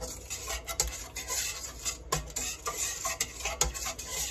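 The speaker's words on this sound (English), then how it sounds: "just give it a little stir around" Ingredients with sugar stirred around in a jar, likely with a butter knife, during bread baking: steady rubbing and scraping with a few sharper knocks, close and moderately loud.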